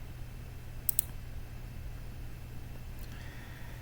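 A computer mouse gives a quick double click, faint and close against a steady low electrical hum, with another soft click a couple of seconds later.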